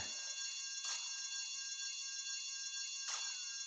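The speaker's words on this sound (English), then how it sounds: "I told you not to touch that alarm!" An alarm rings continuously in the video game GTA Vice City, a steady electronic bell-like tone that stays level and fairly quiet, broken by two short bursts of other noise.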